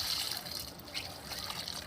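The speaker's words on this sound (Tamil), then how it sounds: "தண்ணி ஊற்றிச்சு" Water is poured onto a newly planted rose in a rooftop garden, a close, steady trickling splash into the soil that lasts under two seconds, with no talking.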